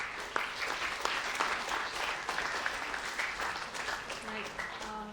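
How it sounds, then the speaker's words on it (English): Applause from a seminar audience after a Q&A session, fairly quiet and uneven, with scattered sharper claps and some voices mixed in, fading toward the end. "Give him a big applause"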